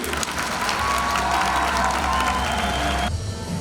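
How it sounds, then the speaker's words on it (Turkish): A crowd at a public meet-up with social media influencers in Bursa claps loudly, with some cheering and whoops mixed in, before the applause cuts off near the end. "koca bir alkışını hak etti"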